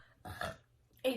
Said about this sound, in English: That was good burp.